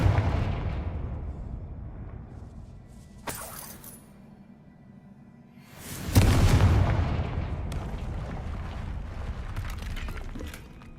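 Fiery spell explosions boom out in the Hogwarts Legacy video game, a sharp blast near the three-second mark and a larger roaring burst at six seconds that rumbles and crackles for several seconds over a low background hum.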